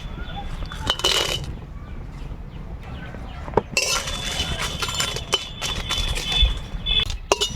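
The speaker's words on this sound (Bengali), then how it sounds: "প্রথমে আমরা শুকনো লঙ্কা আগে ভাজি নিব" Dried red chillies frying in a pan, a busy crackle steady throughout, with clinks and taps of a metal spoon on the pan. No one speaks.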